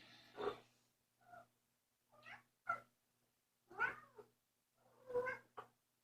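A cat meowing repeatedly, about six distinct close meows of varying length spaced by short silences, some drawn-out and wavering, with no talking.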